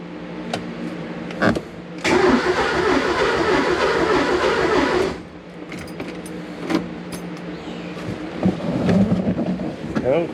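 A Porsche 944 engine cranks over for about three seconds and nearly fires, with clicks, clunks and a brief rattle around it and people talking nearby.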